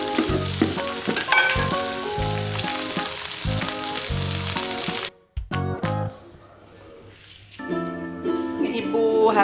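Village-style fried rice with red chilies and bird's eye chilies fries in a hot pan, a loud crackling sizzle with rhythmic stirring clatter that briefly drops out, then returns as a softer, steady hiss.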